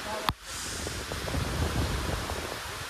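Heavy rain pours down outdoors during a drive in a village, a dense, broad wash of noise that stays steady after a brief knock at the start.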